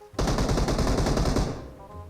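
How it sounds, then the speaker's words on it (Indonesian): Video game gunfire rings out as a loud, rapid automatic burst of shots lasting over a second, then fades into a short tail. "Itu siapa sih nembak mulu?"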